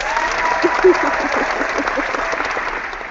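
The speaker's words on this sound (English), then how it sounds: "Everybody gets a round of applause for being so great at the argument." A small group claps steadily for a few seconds, a dense patter of hands with a brief cheer, close and moderately loud.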